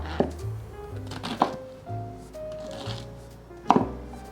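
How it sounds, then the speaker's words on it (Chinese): A knife chops snow white mushrooms on a cutting board in a few spaced, sharp thuds, with quieter tonal background sound between the cuts. "把雪白菇切碎"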